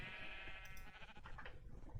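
A sheep in the Minecraft video game gives a single drawn-out, wavering bleat that fades into soft shuffling game noise, faint and heard alone.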